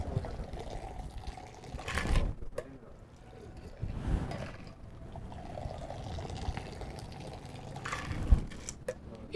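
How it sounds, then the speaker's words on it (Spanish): A pisco and vermouth cocktail poured back and forth in a cascade to aerate it, giving repeated splashing pours at a steady rhythm with soft liquid trickling between them, close and moderately quiet. "Hacer una especie de cascada para que entre aire, ya que nuestro pisco y nuestro vermut son bastante aromáticos."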